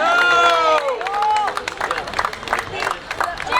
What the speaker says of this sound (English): Mumbai cheering for Pune